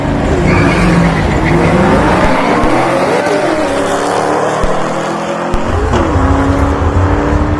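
An Audi and a Mustang drag race cars roaring down the strip, loud high-revving engines with rising and falling pitch through gear changes and sharp shift cracks, filling the whole stretch.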